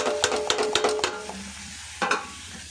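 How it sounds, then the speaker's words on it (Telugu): Chicken pieces tipped into a pan of fried onions for chicken fry: a quick run of rhythmic clacks and bursts of sizzle, then a short pause and one more clatter, loud and close. "ఇప్పుడు చికెన్ని యాడ్ చేద్దాం"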